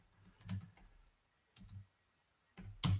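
Three short bursts of typing on a computer keyboard, with quick clustered key clicks separated by pauses, close and fairly quiet, with no voices.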